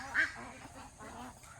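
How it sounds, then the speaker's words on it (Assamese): A duck gives a single short quack near the start, heard close by over a steady low background hum at a site where an underground house is being built. "মই কথা ক'লে হাঁহেও কথা কয়"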